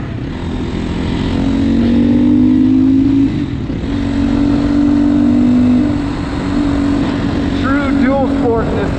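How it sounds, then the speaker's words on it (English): A GPX FSE300R dual sport motorcycle rides on the road, its engine droning loud and near with rising and falling revs, over wind rush and a brief voice near the end. "back on the GPX, more on-road riding."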